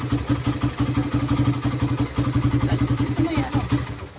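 A small motorcycle engine, a carbureted Suzuki Raider 150, idles with a steady, rapid chugging pulse, close by and fairly loud, without clearly cutting out.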